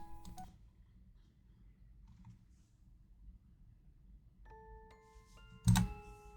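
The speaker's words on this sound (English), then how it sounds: "Albert, holding up the sleeping Digawave, picked up the phone" Telephone handset lifted and dialed: a brief clatter, a long quiet stretch, then a few clear dialing tones and a sharp clunk near the end, close and faint, with no voices.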